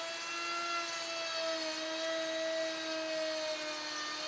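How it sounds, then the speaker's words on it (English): A DEWALT plunge base router cuts flutes in wood trim, giving off a continuous high, steady motor whine with a slight shift in pitch partway through, close and unbroken, with no voices. "With stop blocks clamped on each end of the workpiece, make the first routing pass."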